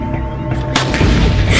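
A Hamas rocket strike in Israel lands with a sudden loud boom partway through, after a rumbling lead-in, followed by a dense, crackling roar that stays loud to the end.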